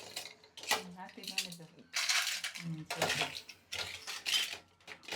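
Chips tossed with masala in a bowl, producing clattering, rustling crunches and utensil clinks in bursts, close and fairly loud, with people talking throughout.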